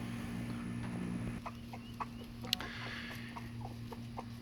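A hen and her baby chickens in a coop give soft, scattered clucks and faint peeps, close but quiet, over a steady low background hum.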